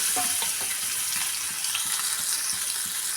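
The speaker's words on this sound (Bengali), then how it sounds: "কড়াইয়ে মাছগুলো দিয়ে দিয়েছি এবং গ্যাসের ফ্লেমটা আমি একটু বন্ধ মানে সিমে করে দিয়েছি মাছগুলো আস্তে আস্তে ভাজা হবে" Rohu fish pieces fry in hot oil in a wok over a low flame, giving a steady crackling sizzle with small pops and light stirring clatter, close and alone.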